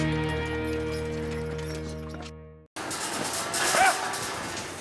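Cattle at the Oklahoma National Stockyards in Oklahoma City: after a sustained droning tone ends, a single moo rises briefly over a noisy yard background.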